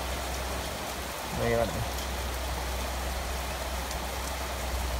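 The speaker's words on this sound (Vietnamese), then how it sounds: "Đang câu cá thì lại trời mưa." Steady rain falls at a home pond during a fishing outing, a dense even hiss throughout, with a brief spoken phrase near the start.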